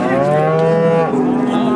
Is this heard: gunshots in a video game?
no